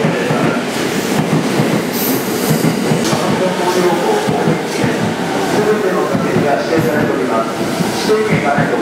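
A JR 189 series train in Asama livery at Ofuna station on the Yokosuka Line, rumbling steadily with rolling wheel noise and clatter over platform ambience, with station announcements heard throughout.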